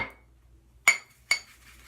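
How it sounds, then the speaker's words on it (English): A shaving brush strikes a Captain's Choice lathering bowl twice, two sharp, close ceramic clinks about half a second apart, each ringing briefly in an otherwise quiet room. "Sorry if I clanked the bowl a little bit here."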